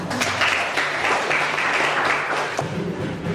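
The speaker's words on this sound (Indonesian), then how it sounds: "tepuk tangan." A classroom group of students in a teacher-training lesson claps steadily for about three seconds, a close, dense patter of hands that thins out toward the end.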